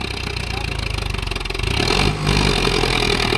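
Swaraj 744 XT 55 HP tractor engine labouring under a brake test, a steady loud diesel chug that swells and grows rougher midway, close and continuous.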